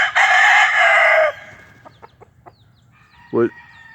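A rooster crows loudly and close, followed by soft scattered clucks and a sharp squawk from hens.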